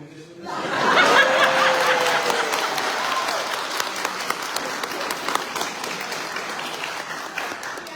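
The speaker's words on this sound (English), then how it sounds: "Can we have a round of applause for a masterclass installing it we just did?" A crowd breaks into sustained applause mixed with chuckles and laughter, clapping steady and fairly loud for several seconds before thinning slightly.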